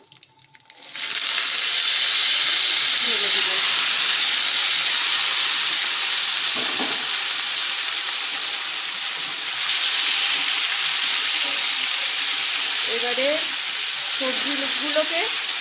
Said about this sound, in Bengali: ভালো করে ভেজে নিতে হবে প্রায় এইটটি পারসেন্ট